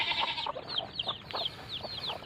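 A pet silkie hen gives a run of soft, quick clucks and chirpy calls, close by but fairly quiet, with no talking.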